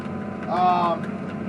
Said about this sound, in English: But we're on the tractor, the T7 230. We got the chisel plow behind.